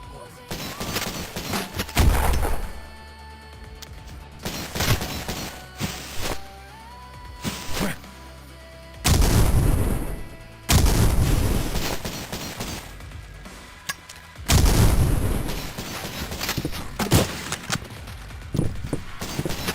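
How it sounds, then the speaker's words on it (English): In the retro shooter Cultic, grenade launcher blasts and gunfire go off in heavy, booming bursts mixed with sharper shots, loud and close, with steady in-game action noise between the explosions. "Should we try and shoot the grenade again?"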